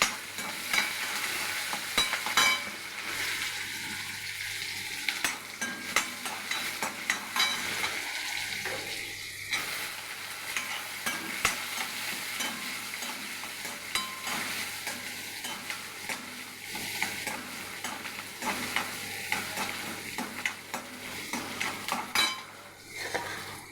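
Onions sizzle steadily in a pan while a utensil scrapes and stirs them at intervals, close by and fairly quiet, with no talking.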